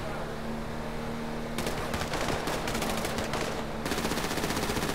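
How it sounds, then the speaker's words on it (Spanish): Rapid bursts of automatic gunfire in a video game crackle in quick succession, dense and continuous, with a steady low hum beneath. "esos tiros que le disparó Caponi fueron dirigidos a la comisaría."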